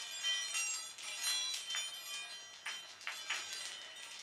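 Chinese health balls with internal bells chime as they roll in the hand, giving a steady, soft shimmer of high tinkling tones with repeated gentle ringing accents, close and alone.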